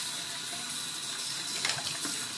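Water runs steadily through a MaxiMist Evolution TNT spray tanning gun as it is rinsed clean, a soft, even hiss that stays close and fairly quiet, with a few slightly louder splashy moments near the end.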